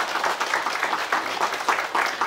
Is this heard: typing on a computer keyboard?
no